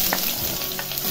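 Onion dropped into hot oil already crackling with cumin and mustard seeds for a village-style zunka, giving a steady, close sizzle with a few brighter pops and spatters throughout.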